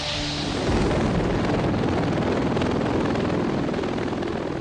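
A V-22 Osprey tiltrotor aircraft in helicopter mode thunders with a dense, loud rotor roar that swells in after a brief quieter moment and then holds steady.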